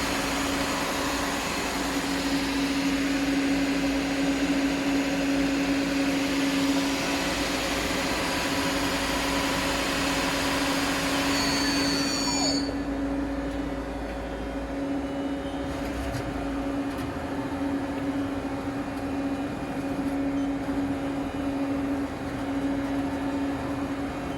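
A Mori Seiki CL-2000BT CNC lathe spindle runs at speed, giving a steady mechanical whine and hum with high tonal lines. Partway through, the tone drops sharply as it spins down, and a quieter machine hum continues after that.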